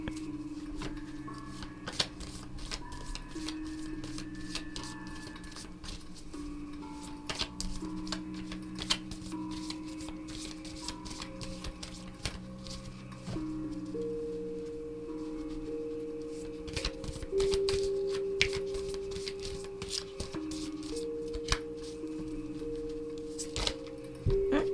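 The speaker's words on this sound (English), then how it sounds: "So we will do some shuffling." Tarot cards being shuffled by hand in a quiet room, a steady run of soft riffling, flicking and tapping clicks that keeps going without pause, with faint tonal hum from the background alongside.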